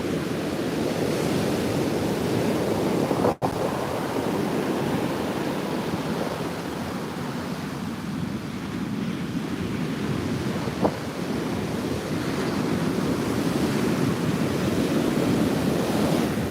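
Rough ocean surf at Pine Knoll Shores, North Carolina, churned up by a rising wind: a continuous loud roar of breaking waves with wind buffeting the microphone and a couple of brief sharp knocks.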